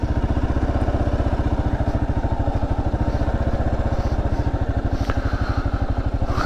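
A 2024 Kawasaki KLR 650 motorcycle climbs a steep off-road hill, its single-cylinder engine pulsing in a steady, loud, close thump throughout with no speech over it.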